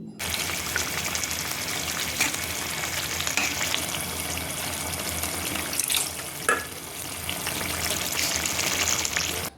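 Pabda fish sizzle steadily as they fry in a pan, a dense, continuous crackling hiss that stays loud and close throughout, with no voices.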